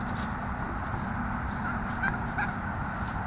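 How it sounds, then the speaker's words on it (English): A flock of turkeys and chickens gathers in a farmyard on a morning, giving off a steady low murmur of clucking and gobbling with faint honks, held at a moderate distance and constant throughout. "all the turkeys and chickens are coming over to say good morning to Lynn"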